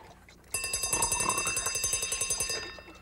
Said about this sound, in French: Il a besoin d'un réveil matin.